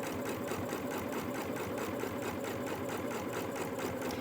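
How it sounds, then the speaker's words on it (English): A sewing machine stitching the curved front seam of a fabric face mask with a 1/4 inch presser foot, a steady close continuous whir with rapid needle rhythm throughout, no voices. "so our first seam is going to be this curve, this front. So I'm just going to put this down, and I'm sewing my outside."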